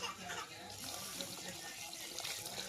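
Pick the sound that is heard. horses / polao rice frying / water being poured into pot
water being poured into pot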